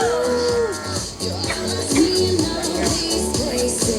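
A cow moos loudly at a pageant event, with repeated long lowing calls that swell and fall over a busy background of crowd noise and music.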